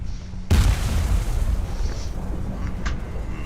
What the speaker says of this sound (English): Cannons work, that's the main thing.